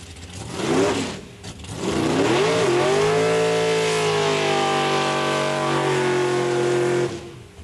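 Final-round drag race cars at a 1994 strip: engines rev in two short bursts, then one car accelerates hard in a long sustained roar that climbs in pitch before dropping away, loud and near.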